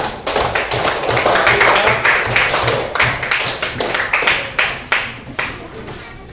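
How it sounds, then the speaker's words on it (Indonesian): Classroom participants clap their hands in a coding and artificial intelligence teaching session, giving a close, lively patter of many sharp claps that stays steady for several seconds before thinning out. "Partisipasinya berikan tepuk tangan untuk semua"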